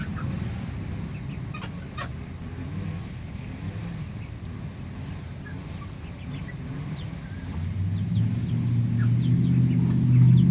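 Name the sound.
chickens clucking, rooster and hens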